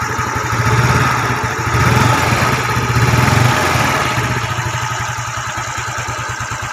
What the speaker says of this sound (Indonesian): Kita gas guys.